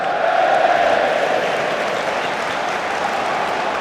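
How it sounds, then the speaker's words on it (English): Football stadium crowd at a Championship match between Leeds and Nottingham Forest, a broad steady roar of many voices with no talk over it. "Some sort of crowd reaction now."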